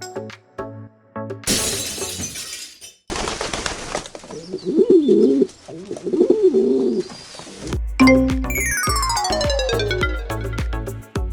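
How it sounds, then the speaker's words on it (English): A pigeon cooing, two low rounded coos in the middle of the clip, set among brief music and sharp crashing sound effects before and after. "Pigeon."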